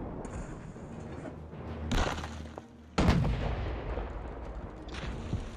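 Ship cannons fire in the Sail VR naval video game, with two heavy booming blasts about a second apart, each followed by a rumbling decay, over a constant background of game ambience.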